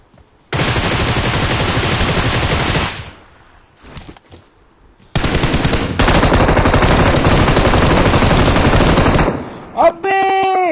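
Sustained bursts of automatic gunfire in the mobile battle-royale game PUBG Mobile, loud and dense, with a short pause midway, then a long continuous volley ending in a few tonal game effects.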